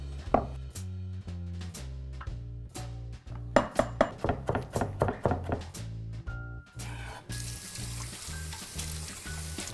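A knife chops capers on a board for a triple herb green sauce, landing in quick, sharp, close knocks with a few brief bursts and a clink near the end.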